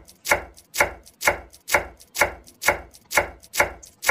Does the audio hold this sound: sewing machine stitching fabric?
no